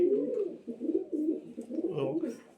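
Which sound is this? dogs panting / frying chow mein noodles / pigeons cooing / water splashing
pigeons cooing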